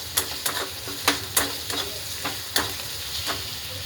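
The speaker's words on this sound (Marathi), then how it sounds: "हे कोथिंबीर आणि लसूणचं बारीक केलेलं टाकून घेते म्हणजे तेलामध्ये छान असं फ्राय होईल" Chopped coriander and garlic fry in hot oil while a spoon stirs and scrapes the pan in irregular strokes over a steady, close sizzle.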